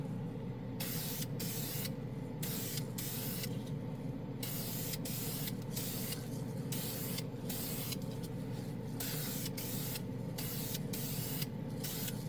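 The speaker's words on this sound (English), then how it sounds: "a industrial type spray can with a nice misting paint coming out of it" Steady hissing spray from an industrial-type aerosol can misting primer paint onto plastic model parts, released in repeated bursts with brief pauses, close and continuous over a low background hum.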